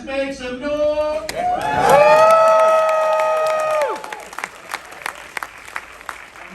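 A film festival crowd at Beyond Fest erupts in loud cheers, whoops and applause, swelling for a couple of seconds before fading to scattered claps and shouts.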